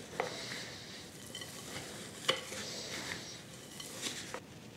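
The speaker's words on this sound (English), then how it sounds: "Then I want to stir in 3/4 cup or about 177 mils of avocado oil." Avocado oil being stirred into granola muffin batter in a bowl, soft wet swishing with a few light utensil clinks against the bowl, fairly quiet and close.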